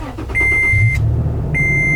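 A Toyota FJ Cruiser engine cranks and starts after an oil change and new spark plugs, its loud low rumble settling into a steady idle while a steady electronic chime sounds twice.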